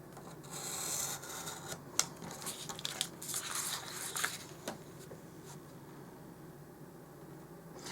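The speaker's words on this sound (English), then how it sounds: "I'm going to cut this out." A blade cuts craft material along a ruler for a doll-sized s'more, giving faint rasping and scraping strokes with a few small clicks. The sound is quiet and close and thins out toward the end, with no voices.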